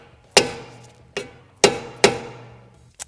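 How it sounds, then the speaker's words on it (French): A hammer strikes a badly worn rear axle assembly of an RC car five times in irregular, sharp, close metallic taps, with quiet pauses in between. "Petit coup de marteau."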